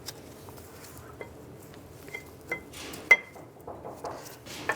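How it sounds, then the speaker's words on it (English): Rear brake pads going onto a 2005-2015 Nissan Xterra make light metallic clinks, taps and scrapes, several close sharp clicks scattered irregularly over a quiet workshop background. "Now install the brake pads."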